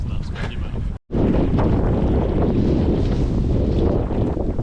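Strong wind buffets the microphone aboard a sailing boat, making a loud, continuous roar with a brief dropout near the start and a faint wash of sea underneath.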